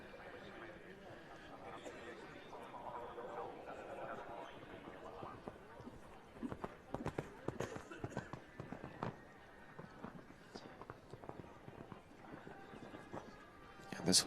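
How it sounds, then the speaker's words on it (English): Show jumping horse's hooves thud against the ground during a Grand Prix World Cup qualifier round, a series of loud, irregular impacts and clattering strides in the second half, heard over steady commentary and a murmuring arena crowd. "this horse makes a fantastic noise off the ground when he powers himself into the air"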